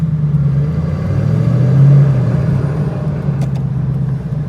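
A TVR Chimaera sports car's engine drones loud and close from inside the car on the road, a steady low rumble that swells briefly as it pulls and then settles back to a cruising hum.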